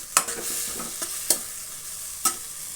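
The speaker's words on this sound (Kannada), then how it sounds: "1 ಸ್ಪೂನಷ್ಟು ಹಾಕ್ಬಿಟ್ಟು ಮತ್ತೆ ಬಾಯ್ಲ್ ಮಾಡ್ತಾಯಿದ್ದೀನಿ ಮಾವಿನಕಾಯಿ ತುರಿನ" Grated raw mango frying in ghee, a soft continuous sizzle with a few sharp clinks of a spoon stirring against the pan, close and without voices.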